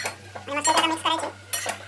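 A utensil clinks and scrapes against a pan as egg gravy is mixed, with several sharp metallic taps in quick, irregular succession. The sounds are close and clear over a low background hum.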